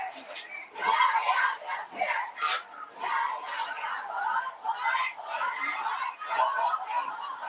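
Crowd noise from the stands at a high school football game, Payton versus Von Steuben, with a steady murmur of voices and scattered shouts rising and falling throughout, moderately distant and continuous.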